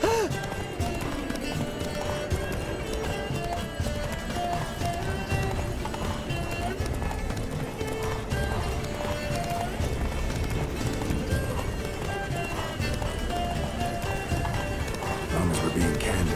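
Roach the horse gallops in The Witcher 3, a steady rhythmic clip-clop of hooves running on under a mix of game sounds, with people talking over it now and then.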